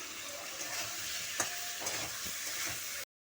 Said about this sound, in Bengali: আমি নাড়াচাড়া করছি